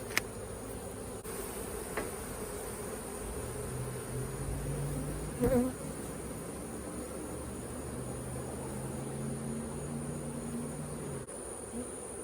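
A steady, dense buzzing of many bees hums throughout, with a brief knock partway through and faint handling noises.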